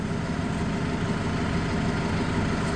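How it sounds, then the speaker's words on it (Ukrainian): A Toyota 8FD50F diesel forklift with a 5-tonne capacity idles while raising its forks, giving a steady, close, low diesel rumble throughout with no break. "На холостих обертах він підіймає."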